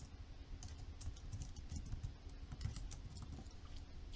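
Quiet, steady typing on a computer keyboard, a continuous patter of light key clicks throughout with no voices.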